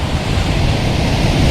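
A waterfall spills into a pond in Van Cortlandt Park, a loud, steady, close roar of rushing water with a dense rumble and no talk.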